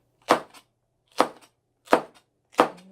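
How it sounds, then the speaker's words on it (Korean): A kitchen knife cuts through red and green chili peppers on a cutting board, four crisp evenly spaced chops, each with a small follow-up tap, close and clear with no speech. "이렇게 썰어주겠습니다"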